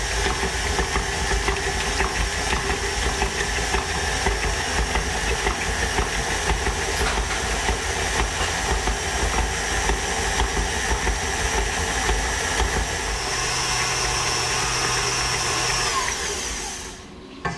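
Electric mixer whirring steadily as it blends smooth cake batter with vanilla and whole milk, a continuous loud motor hum that holds level before tapering off near the end.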